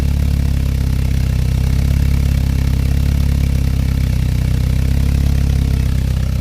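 A 1988 Volkswagen Scirocco engine idles steadily through its exhaust, a loud, close, even low rumble with a faint rattle on top. It holds constant the whole time with no revving and no talk.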